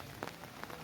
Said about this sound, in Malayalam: അപ്പോഴേക്കും മഴ ഒന്ന് കുറയട്ടെ.